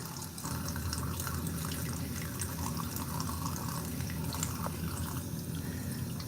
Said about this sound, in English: Just giving it a rinse.